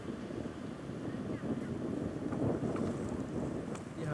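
Steady roaring wind buffets a Kelly Kettle Ranger bush oven outdoors, a continuous low rumbling gust noise against the microphone with no break.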